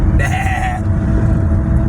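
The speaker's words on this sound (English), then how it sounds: "Sheep." A sheep bleats once, loud and close, a wavering cry over a low rumble of background noise.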